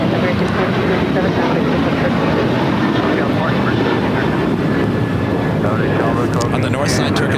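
A Boeing 737-800 jet at LAX, bound for Indianapolis as flight 1437, roars steadily and loudly throughout, a dense broadband engine rumble that stays strong from start to finish.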